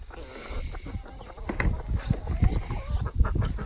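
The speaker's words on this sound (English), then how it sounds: "she is a broody hen. You can hear that she makes a different noise" An Ameraucana broody hen makes low, grumbling clucks in irregular bursts, close by, with faint rustling in the background.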